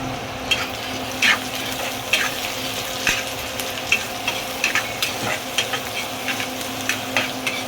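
Three onions fry for shepu bhaji as a utensil stirs them in a pan, producing a steady close sizzle broken by regular light scraping taps, with no talking.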